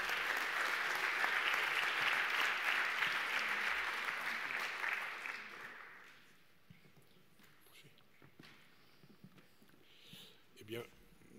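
An audience at a 2017 business award ceremony, the Grand Prix Mutex trophies, claps in a loud wave of applause that gradually fades out over several seconds, leaving a quiet room with faint shuffles and a few soft knocks.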